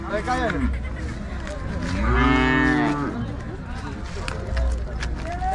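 At a cattle market, a Holstein Friesian heifer lets out a long, loud moo close by, with a shorter lowing call after it amid background noise.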